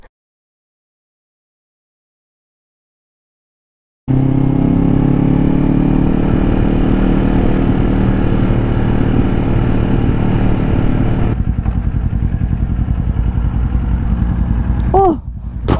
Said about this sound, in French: c'est les motards qui arsouillent